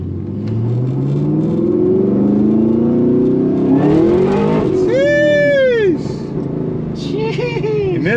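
Chevrolet Camaro ZL1 engine on a short test drive, a loud steady rumble that revs up and down under excited talk, with a sharp whining sweep partway through.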